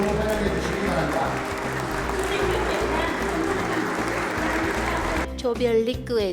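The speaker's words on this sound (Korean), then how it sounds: "모두 자리에서 일어나 박수로 환영해 주시기 바랍니다" An audience rises and applauds in welcome at a Korean official event, dense sustained clapping with crowd noise filling most of the stretch before breaking off near the end.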